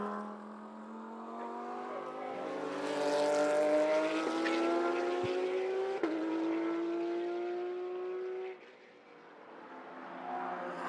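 Lechner Porsche race car at the Kyalami 9 Hour pre-qualifying, a loud engine note climbing steadily in pitch as it passes near, with a gear shift partway and the sound fading as it moves away.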